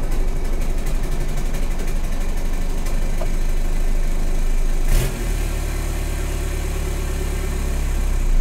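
A VW 1.9L ALH TDI diesel engine fitted with bigger injectors idles steadily and loudly up close. A continuous rough, even rumble holds throughout, with one brief knock or clunk partway through.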